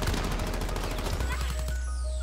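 Rapid bursts of gunfire ring out in a video game, loud and close, with quick repeated shots over a dense background of game noise.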